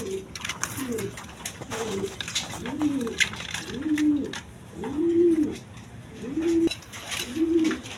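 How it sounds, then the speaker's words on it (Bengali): A pair of Fieldback pigeons, one deep red, coo close by in a steady series of about seven rolling, evenly spaced calls, with faint background noise. "দর্শকবৃন্দ এখানে এক পেয়ার ফিল্ডব্যাগ কবুতর আছে"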